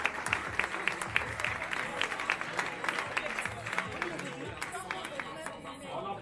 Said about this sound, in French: Continuez à applaudir, continuez à applaudir.